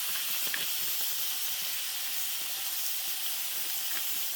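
Ground deer meat, a 1.5-pound batch for chili, sizzles in a hot pan with a steady bright hiss that holds evenly throughout, close and fairly loud, with no voices.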